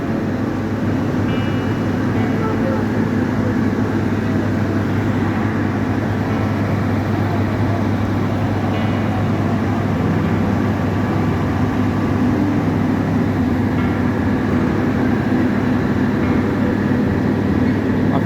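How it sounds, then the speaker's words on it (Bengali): A train pulls away from a platform at Santahar Junction, a British-era railway station in Bangladesh, giving a steady, loud, rumbling roar that holds unbroken throughout with no voices over it. "সেই ট্রেনটি এই নাম্বার প্ল্যাটফর্ম ছেড়ে যাচ্ছে"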